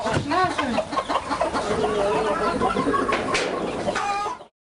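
Kadaknath chickens cluck and cackle continuously at close range on a farm, several birds overlapping in a busy, noisy flock until the sound cuts off abruptly.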